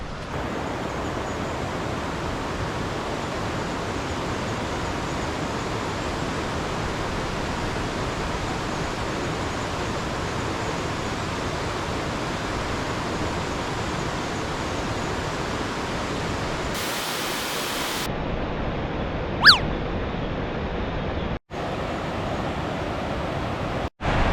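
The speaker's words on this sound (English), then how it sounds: "And there's a waterfall over here." A waterfall near East Calder pours with a steady, dense rush that stays loud and unbroken, with no voices.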